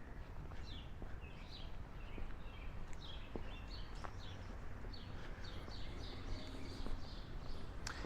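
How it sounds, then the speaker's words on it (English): Short, bright bird chirps repeat in quick bursts over a steady outdoor hum in a quiet residential neighborhood of Forest Hills, Queens, New York City, with a few faint clicks in the background. "That bird is making all the noise."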